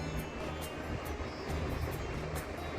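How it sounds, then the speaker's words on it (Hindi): Water rushing inside a huge rock known as Shiv Gharat in Himachal, sounding like a traditional water-driven flour mill: a steady, faint, even rumble and hiss with no pauses. "अगर आप आवाज़ सुन पा रहे होंगे तो आपको लग रहा होगा इस पत्थर के अंदर से पानी बह रहा है।"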